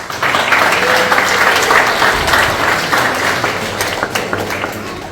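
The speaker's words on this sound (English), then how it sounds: "Give a round of applause to yourselves." An audience at a youth summer theatre camp production of Little Women breaks into full, sustained applause, many hands clapping in a thick, even roar that eases slightly toward the end, with only faint voices beneath.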